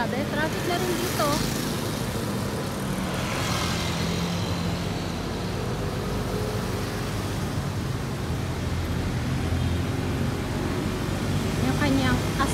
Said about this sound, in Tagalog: traffic na rin dito